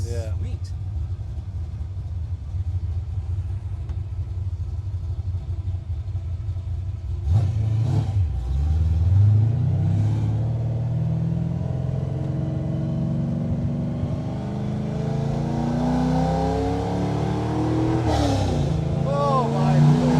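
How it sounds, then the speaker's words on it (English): A 1980 Chevy Camaro Z28's naturally aspirated V8 idles with a deep rumble, then revs up loudly in a few rising and falling surges, close by, with people talking over it. "This is the normal aspirated engine sound."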